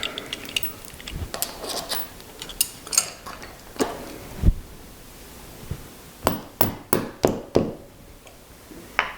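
Taper pin being tapped back into a Harrison milling head in a workshop, a series of sharp metallic knocks and clicks in irregular bursts, close and moderately loud, with no talking.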